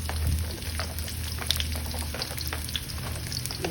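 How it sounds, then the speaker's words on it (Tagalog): Garlic sautéing in a pan for a chicken and cabbage stir fry, giving a continuous close sizzle with occasional light stirring clicks and scrapes, no voices. "we're gonna saute the garlic"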